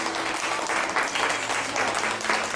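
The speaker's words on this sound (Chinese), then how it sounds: "现在我们以热烈掌声欢迎吴清源老先生入场" Warm, sustained applause from an audience greets elderly Go master Wu Qingyuan as he enters, a dense even clapping heard close and continuous with no speech.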